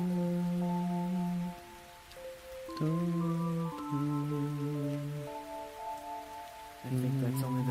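A steady rain effect in the video game Xenosaga Episode 1 sits beneath sustained synth music chords, a soft, continuous hiss with no voices heard.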